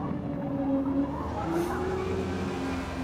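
Race cars in a sim racing game drag race along the finish straight at Mount Panorama in a JDM series race, with whining engine notes rising and falling and tires squealing, without commentary.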